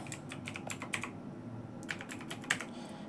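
Fingers tap out an enrollment number on a computer keyboard, producing a steady run of light clicking keystrokes with a few sharper hits, close by and quiet, with no talking.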